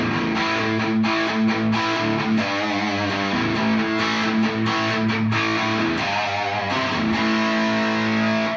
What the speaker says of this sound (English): if you max the gain, you get really heavy distortion.